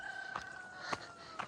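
Faint, distant chicken calls sound a few times over a quiet outdoor trail background, brief squawks spaced about half a second apart.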